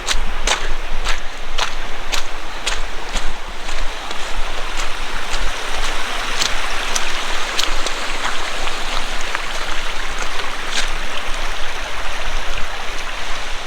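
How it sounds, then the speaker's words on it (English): A small creek flows near Crater Lake in snowy weather, a steady close babble and rush of water with scattered sharp drips and splashes. "See a little creek, let's go check that out."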